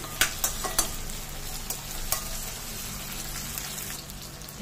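Tomato and cashews fry in a pan for gravy, giving a steady close sizzle with scattered crisp pops and spatters, like light rain, and no talk.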